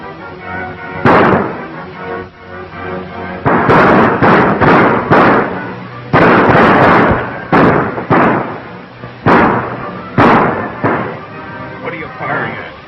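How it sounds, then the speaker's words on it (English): Gunfire rings out in a desert shootout in the western film Desert Gold. Loud, heavy shots come in irregular bursts over a boxy, hissy soundtrack. "What are you firing at?"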